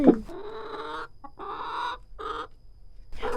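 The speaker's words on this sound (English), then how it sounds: "the chickens start putting themselves to bed" Backyard chickens cluck softly while settling in for the night, a few close, throaty clucks in short bursts separated by brief pauses.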